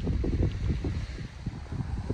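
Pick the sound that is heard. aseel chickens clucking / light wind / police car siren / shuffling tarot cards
light wind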